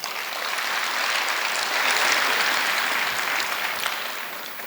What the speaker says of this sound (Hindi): तो हम तालियों से उनका स्वागत करें एक बार।